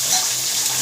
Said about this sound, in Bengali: মাছটা দিলাম, মাছটা লাল লাল করে ভেজে নেব।